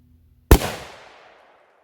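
A single .300 or .338 Winchester Magnum rifle loaded with Hornady SST bullets fires over a chronograph: one loud, sharp crack followed by a quickly fading rumble, with near silence before it.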